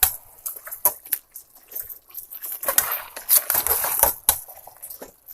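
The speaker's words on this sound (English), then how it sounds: "I like to stir it up so I can get the curry on the vegetables" A pot of curry with carrots and other vegetables being stirred in a home kitchen, giving irregular close scraping and clinking with louder bursts of utensil-against-pot clatter, no talking.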